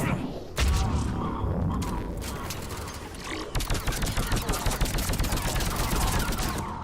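Rapid sniper rifle fire from Mass Effect 3 on Insanity difficulty, a dense run of loud repeated shots with booming impacts building through the second half, with a voice speaking over part of it.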